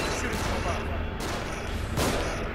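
Gunfire from The Evil Within video game sounds as a few sharp, mid-distance shot bursts over a steady background rumble, with a voice speaking over it.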